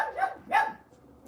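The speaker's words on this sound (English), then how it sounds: "She's been barking at that window for a while." A female dog barks indoors at a window, two short sharp barks spaced about a third of a second apart, moderately close with no voices.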